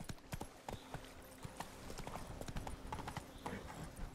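Horse hooves clip-clopping at a steady gallop in The Witcher 3: Wild Hunt – Blood and Wine, with occasional brief whinnies; the hoofbeats are close and continuous throughout, mixed with light ambient game sound.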